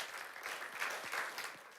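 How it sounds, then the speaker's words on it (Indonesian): A congregation at an Indonesian online church service breaks into applause, a soft, distant wash of clapping that swells slightly and holds at a low level. "kita berikan tepuk tangan dong yang paling luar biasa"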